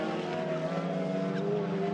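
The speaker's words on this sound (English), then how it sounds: "You've got the turbos chattering." TCR touring cars at a European circuit race pass with turbos chattering, a layered, buzzing engine drone with several overlapping tones heard at moderate distance, fairly faint and steady.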